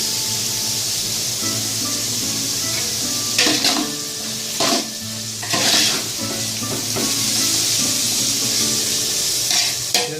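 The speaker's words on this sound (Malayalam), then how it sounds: "സവാള ചേർത്ത് കഴിഞ്ഞാൽ നമ്മൾ വരട്ടി യോജിപ്പിക്കണം" Onions sautéing and being stirred in a pan for chicken majboos, a steady close sizzle broken by several louder scraping stirs of the spoon against the pan.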